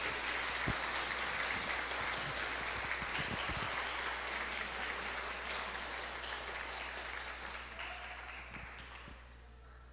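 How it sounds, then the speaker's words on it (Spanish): Church congregation applause fills the room as a dense wash of clapping that slowly thins and fades toward the end, with no voices over it. "¿No crees que podríamos darle un aplauso a nuestro Señor Jesús por su amor,"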